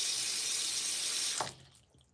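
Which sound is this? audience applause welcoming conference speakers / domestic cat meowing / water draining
water draining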